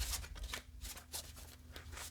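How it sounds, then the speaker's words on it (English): Tarot cards shuffled by hand in a quiet room, a steady run of close, crisp riffling and soft slapping bursts repeating for a couple of seconds with no talking. "Let me just do a quick shuffle."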